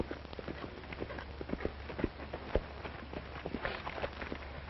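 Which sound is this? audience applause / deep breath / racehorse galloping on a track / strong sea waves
racehorse galloping on a track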